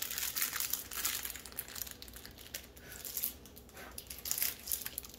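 A small bag holding little spoons crinkles and rustles as it is opened, close and crisp with irregular crackling bursts throughout, no talk.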